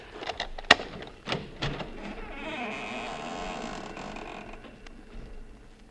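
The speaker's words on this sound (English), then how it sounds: "Maybe you heard the hinge squeak a little." A creaky front door hinge squeaking open as a radio drama sound effect, a short sharp creak near the start followed by a long, faint, drawn-out creaking groan.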